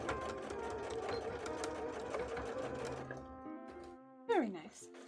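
A sewing machine runs steadily for about three seconds, stitching through the center of a handmade Garbodor-themed bra, then stops as a voice chatters and a sharp exclamation rises near the end.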